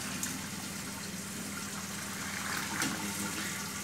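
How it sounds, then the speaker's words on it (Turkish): Melted beeswax is poured and strained through a sieve, making a steady, soft liquid gushing and trickling that runs unbroken and fairly quiet throughout. "erittiğimiz mumları süzüyoruz."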